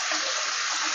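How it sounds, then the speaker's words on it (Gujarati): Water poured over poha (flattened rice) in a perforated strainer, a steady close gush of splashing lasting about a second with no talk. "પૌવા ધોવા માટે આપણે આ ગમે એવું વાસણ આવું કાણાવાળું લેવાનું એટલે પાણી મોરું નીકળી જાય। એમાં પાણી નાખશું।"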